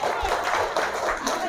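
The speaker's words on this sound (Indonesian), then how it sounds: "Tepuk tangan buat semuanya." Audience applause at a Quran memorization graduation ceremony, a dense, continuous wash of many hands clapping with crowd noise blended in, steady and fairly loud throughout.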